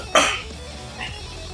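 A single sharp cough close to the microphone, loud and abrupt, trailing off quickly, followed by a faint throaty sound in a quiet room.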